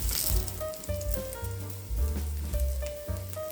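Beetroot vegetable cutlets fry in oil on medium heat, giving a loud, close sizzle with intermittent crackling bursts and stirring or turning scrapes, no talk.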